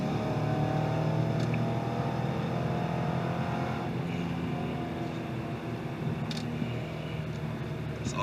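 A 700hp Shelby GT500 Mustang pulls hard in third gear, its engine roaring loud and steady from inside the car with a continuous rising drone and no talk.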